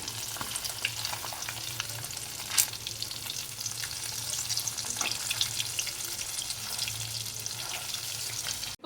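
Fish fry sizzling steadily in a pan of hot oil, a dense, even crackle lasting throughout with a few sharper pops and scrapes, close and fairly loud with no voices.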